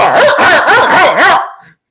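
A dog gives a quick series of loud, close barks, four or five in a rapid rhythm, then stops, leaving silence.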